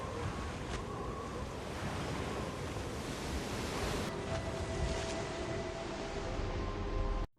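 Stormy ocean waves wash steadily under buffeting wind, a broad, rushing roar that holds constant and fairly soft before cutting off abruptly at the end.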